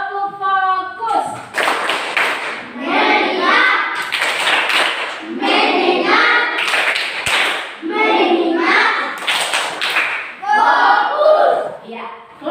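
A classroom of students performs a 'tepuk fokus' clapping chant, chanting in unison with sharp rhythmic hand claps in repeated bursts, loud and close.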